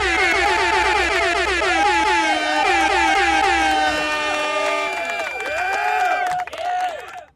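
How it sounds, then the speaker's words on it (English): A loud, blaring air horn sounds in long repeated blasts, its pitch wavering and sliding before it sputters out at the end. "You get an air horn for that."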